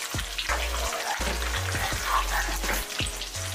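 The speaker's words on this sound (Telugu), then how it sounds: "అలానే కరివేపాకు కూడా వేస్తున్నానండి. కొంచెం మంచిగా ఫ్రై అవ్వాలండి." Curry leaves fry in hot oil for Andhra-style tomato pachadi, giving a dense, steady sizzle and crackle close by. Low thumps of a pan or spoon break in now and then, and no one speaks.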